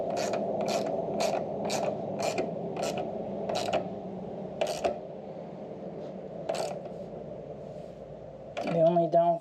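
Ratcheting and creaking as a bolt is tightened on an axle slider fitted to a 2024 Yamaha MT03 motorcycle, a rapid series of short clicks in bursts, then a brief gritty scrape near the end, with a low hum beneath.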